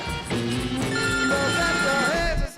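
A mobile phone ringtone plays loudly and close for a few seconds, a melodic electronic tune of sliding tones over a low background murmur, cutting off abruptly at the end.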